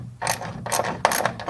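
Ratcheting clicks from a wrench working carriage bolts loose on the floor pan of a treadle machine, several short bursts of rapid pawl clicking with brief pauses between, close and fairly loud, no talk.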